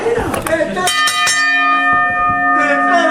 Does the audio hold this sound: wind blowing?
no